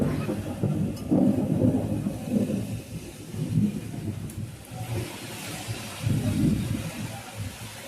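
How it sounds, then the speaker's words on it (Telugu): A deep, rolling rumble of thunder swells and fades in waves over a steady wash of storm noise, with no voices. "మెరుపులు, గాలి, అలాగే ఉరుములు కూడా వస్తూ ఉన్నాయి"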